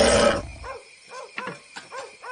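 A dog in a village barks repeatedly in the early morning: a run of four or five short, fairly close barks at an uneven rhythm after a brief burst of louder noise at the start.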